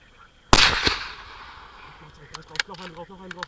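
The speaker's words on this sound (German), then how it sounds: "Jetzt hieß es, bloß die Nerven behalten und im richtigen Moment einen Schuss antragen." A single sharp rifle shot rings out during a driven wild boar hunt in Turkey, followed by a short second crack and a long fading echo, then faint voices and rustling in the open air.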